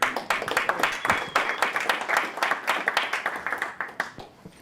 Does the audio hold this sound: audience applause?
yes